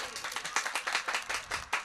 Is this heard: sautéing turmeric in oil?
no